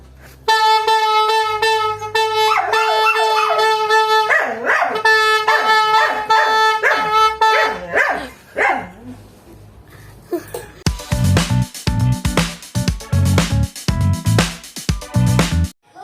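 A pet dog howls and yips in long wavering tones along to music; steady tonal music first, then louder, denser accompaniment from about eleven seconds with the dog's voice mixed in.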